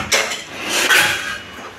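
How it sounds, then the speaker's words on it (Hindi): Ginger and fennel seeds being pounded by hand in a home kitchen, a series of close, sharp metallic knocks and scraping clatter over about two seconds with no talk. "अच्छा, सौंफ कूट रही है।"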